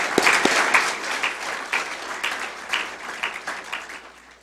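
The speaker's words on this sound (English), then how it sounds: "That's worth a round of applause for sure." Town hall audience applauding, a steady wash of many hands clapping that stays fairly even and slowly thins over a few seconds.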